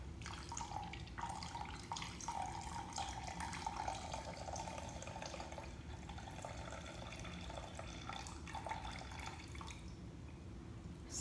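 Liquid alcohol mixture from a homemade coquito batch, flavored with cinnamon stick, clove and anise, pours into a measuring cup in a faint, continuous trickle with small splashes throughout.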